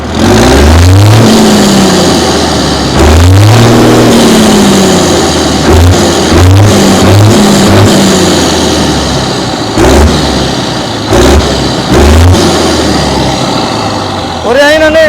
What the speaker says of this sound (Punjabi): ਚਲੋ ਮੈਂ ਪਹਿਲਾਂ ਤੁਹਾਨੂੰ ਸਾਊਂਡ ਹੀ ਸੁਣਾ ਦਿੰਦਾ ਹੁਣ ਸਟਾਰਟ ਕਰਿਆ ਟਰੈਕਟਰ ਨੂੰ